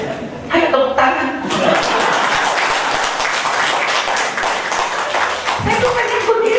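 An audience claps at a talk on schools and education, a dense, steady burst of applause for several seconds after a brief voice at the start, with a short voice returning near the end.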